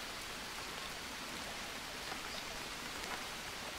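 Rain falls steadily in the jungle survival game Green Hell, a soft, even hiss of drops on surfaces that continues without break at low volume, with no talk.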